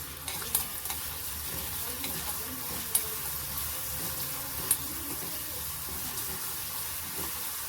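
Green chilli, garlic and cumin tempering sizzle steadily in a hot pan, a continuous close frying hiss broken by a few sharp clicks of stirring.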